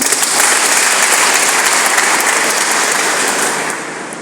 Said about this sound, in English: You clap for him.